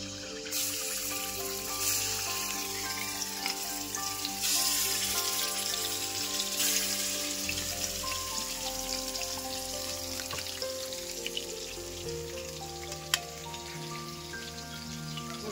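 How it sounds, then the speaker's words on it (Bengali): Fish sizzling as they go into hot oil in a home kitchen, a steady close crackle and hiss running throughout with faint clinks over the top, and no talking. "তেল গরম হয়ে গেছে, এবার আমি মাছগুলো দিয়ে দেবো।"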